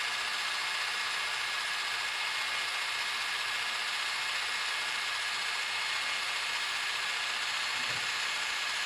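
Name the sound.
model train locomotive sound at full throttle, ScaleTrains EMD SP SD40T-2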